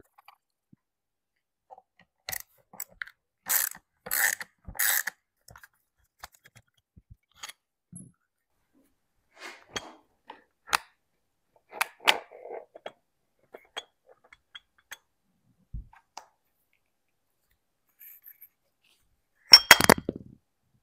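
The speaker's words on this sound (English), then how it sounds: "And go ahead and remove this aluminum bearing housing." Aluminum bearing housing being worked off a well-used Dewalt die grinder: scattered small metallic clinks, scrapes and taps with long quiet gaps, a brief cluster of sharper clicks near the start and a louder clatter at the end, close and without talk.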